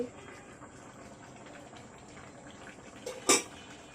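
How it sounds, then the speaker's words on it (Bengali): Mejbani-style beef bhuna bubbling in a pot, a soft, continuous low burble of boiling, ending in a brief louder clank and splash as the lid or spoon moves. "দেখতে পাচ্ছেন মাংসটা ফুটে উঠেছে"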